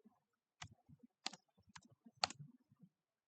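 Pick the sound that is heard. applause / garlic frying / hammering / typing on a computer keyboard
typing on a computer keyboard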